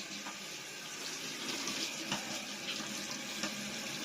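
Tap water runs steadily into a sink while sprouting seeds for parrots are rinsed, a soft continuous splashing with a few faint clinks and no voices.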